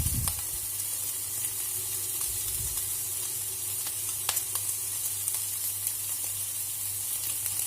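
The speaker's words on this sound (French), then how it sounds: "pour pouvoir faire revenir mon poireau et mon oignon à l'intérieur" Leek and onion softening over low heat in rendered fat in a pan, giving a steady, even sizzle and hiss throughout with a few faint crackles, no voices.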